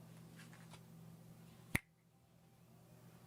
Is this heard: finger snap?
yes